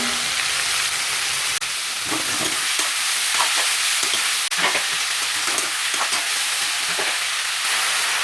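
Onions fry in hot oil with fennel seeds for a vegetable kurma, a loud continuous sizzle with irregular stirring scrapes and clicks from a utensil in the pan.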